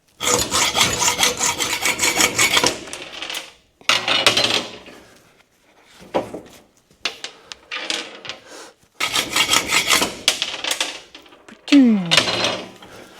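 A cap head bolt has its head cut off by hand, loud rasping strokes in several long bursts separated by short pauses, close and steady, with a brief squeal near the end.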